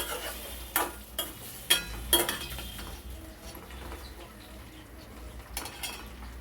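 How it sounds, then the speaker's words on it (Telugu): Ivy gourd (tindora) fries in a pan while a spatula stirs it, giving several sharp scraping clatters against the metal over a low, steady sizzle that fades toward the end. "దొండకాయలు మధ్య మధ్యలో కలుపుకుంటా ఫ్రై చేసుకోవాలండి"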